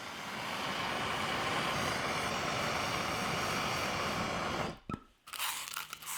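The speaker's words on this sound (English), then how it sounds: "I'll solder a 1/2 inch coupling to the pipe I just cut." Soldering a half-inch coupling onto a freshly cut pipe produces a loud, steady roaring hiss close by that cuts off suddenly near the end, followed by a few faint clanks.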